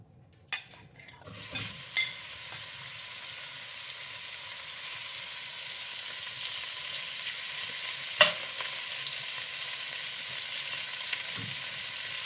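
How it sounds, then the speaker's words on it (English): Beef browns in olive oil in a pot for an old-fashioned stew, with a steady, close sizzle running throughout and a few sharp clanks of a utensil against the pot. "I'm just going to use a little olive oil. And after this beef browns a few minutes"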